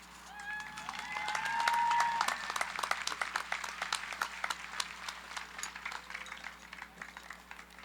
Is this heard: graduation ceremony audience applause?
yes